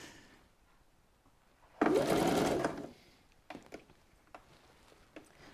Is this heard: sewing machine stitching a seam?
yes